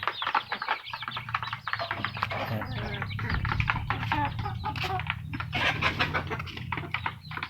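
A native mother hen with her young chicks on a small poultry farm, giving dense, continuous clucks and peeps that layer into a busy chatter through the whole stretch, close and fairly loud.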